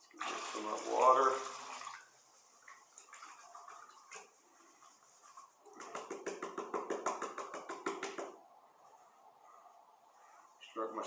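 Water is poured and swirled off hand-crushed silver ore in a pan: a splashy burst early on, then a longer rhythmic sloshing run later, with someone talking in between.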